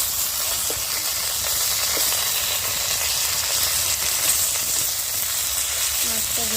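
Fish frying in a pan in a home kitchen while cooking a fish curry gives off a steady, close hiss of oil, with faint clinks now and then.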